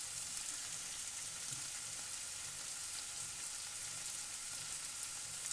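Potatoes and carrots frying in oil in a pan, a steady bright sizzle running unbroken and fairly close throughout, with faint low stirring bumps beneath and no voices.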